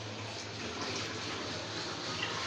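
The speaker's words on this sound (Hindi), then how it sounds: "अब इसमें पानी शामिल कर लेते हैं" Continuous rush of water pouring steadily into a pot of beef for pulao stock, a broad even splashing hiss with a low hum underneath, no voices.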